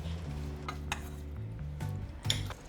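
Lemongrass salad with shrimp and minced pork is tossed and mixed in a bowl, giving soft, close clinks and scraping stirs in short bursts over a low steady hum, with no talking.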